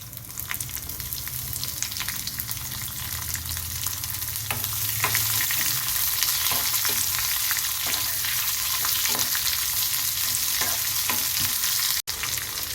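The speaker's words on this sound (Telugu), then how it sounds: "ఉల్లిపాయ ముక్కలు ఫ్రై అవుతున్నప్పుడు" Chopped onions frying in hot oil with curry leaves and green chillies for a Telangana-style buttermilk curry: a steady, close sizzle with scattered stirring clicks throughout, no talking.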